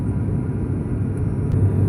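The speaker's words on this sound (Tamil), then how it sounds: "இன்னும் சற்று நேரத்தில் பெங்களூரில் லேண்ட் ஆகிடும் ஃப்ளைட்டு." A passenger airplane descends to land at Bengaluru airport, its cabin filled with a steady, loud, low engine rumble and hiss that holds throughout.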